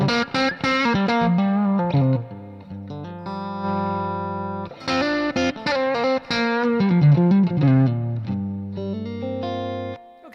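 Electric guitar played through a Replex tape echo on its vintage channel with reverb, ringing chords and single notes with echoing repeats in two phrases, close and loud, no talking.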